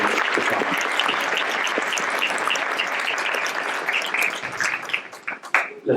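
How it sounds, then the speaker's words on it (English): An audience at a Ladies Day celebration gives a dense, sustained round of applause that stays steady for several seconds, then breaks into louder individual claps as it tapers off. "Let's give another round of applause to the brothers and sisters who did a great job following"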